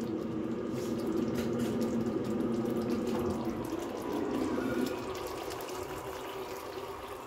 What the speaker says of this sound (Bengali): এবারে এর মধ্যে গরম জল দিয়ে দেবো